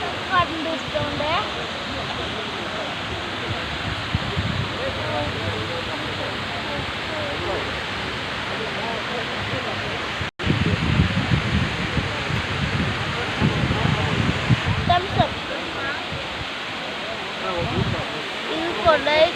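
Silver Cascade waterfall at Kodaikanal roars as a continuous broadband rush of falling water, loud and close, with a brief cut midway and voices talking faintly underneath.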